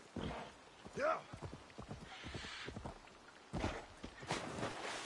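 Horse hooves clip-clop in the Assassin's Creed Valhalla video game, a quick run of soft rhythmic hoofbeats mixed with game sounds and a brief whinny-like tone, with someone talking over it.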